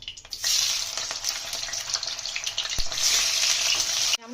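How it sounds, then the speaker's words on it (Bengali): Fish heads drop into hot oil and fry, a sudden burst into a loud, dense sizzle that swells and crackles close by, with a sharp knock midway and an abrupt stop at the end. "মাছের মাথাগুলো ভেজে নেব।"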